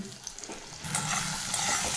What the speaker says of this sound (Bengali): এই দেখো, আমার মশলাটা ভাজা হয়ে গেছে। খুব সুন্দর করে কষে নিয়েছি মশলাটা।